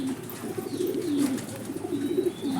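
Pigeons coo in low, rolling, throaty phrases that run on steadily and close by, with a faint chirp from another bird partway through.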